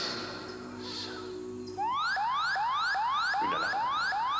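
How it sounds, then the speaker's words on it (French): A security alarm sounding in an animated adventure, loud repeated rising electronic whoops that cut in abruptly after a soft musical passage and continue steadily to the end. "Une alarme."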